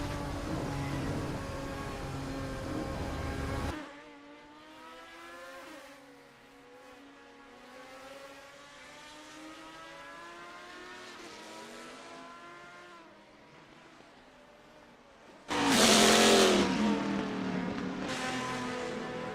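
Race car engines lapping Spa in the Assetto Corsa racing game, GT Legends cars, rising and falling in pitch as they pass, with a loud close roar bursting in near the end.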